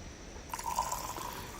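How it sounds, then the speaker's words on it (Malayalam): Water pours in a short, steady stream into a pot of rice for chicken biryani, with a brief liquid trickle and bubbling that stops after about a second. "ഒന്നേ മുക്കാൽ ഗ്ലാസ് വെള്ളമാണ് ഞാനിവിടെ ഒഴിച്ചു കൊടുക്കുന്നത്"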